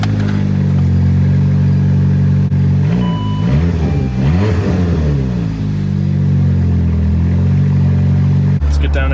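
A Saab 9-3 engine with freshly fitted spark plugs and reinstalled coil packs rumbles loudly and close, its pitch rising and falling in revs through the middle before settling back to a steady idle.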